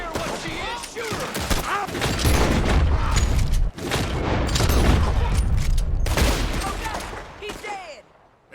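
Heavy gunfire in a Red Dead Redemption 2 shootout: dense, continuous volleys of shots and booms roar for most of the stretch, with brief lulls, while shouting voices break through the din.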